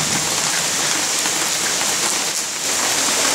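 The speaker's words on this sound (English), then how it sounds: "Raining." Steady rain falls outdoors, a dense, constant hiss of drops with no pauses, close and fairly loud, with no voices present.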